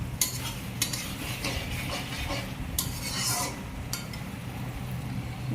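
Meat stirred with masala in a pan, a spoon scraping and clinking against the metal over a steady low sizzle, with occasional sharper knocks.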